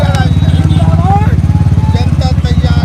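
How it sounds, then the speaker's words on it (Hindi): Motorcycles at an election campaign rally in Jokihat rumble loudly nearby with a pulsing, chugging engine drone, while voices call out over the noise. "सरफराज आलम बाइक पर प्रचार कर रहे हैं।"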